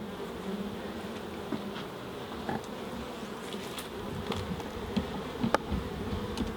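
Continuous insect buzzing from a wasp hovering close by near an open beehive during a honey and queen cell check, with a steady drone and a few louder passes, no talking.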